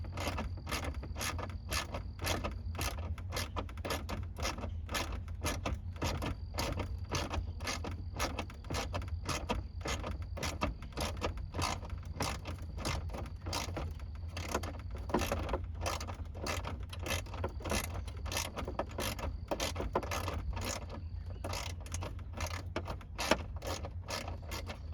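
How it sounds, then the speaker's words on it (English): Screws being removed from the dash snorkel tube of a 1986–91 Buick H-body car, heard as a steady, close, rapid ratcheting click that continues evenly for the whole stretch with no talking. "you got to take these 2 screws out so that you can get this snorkel tube off of here"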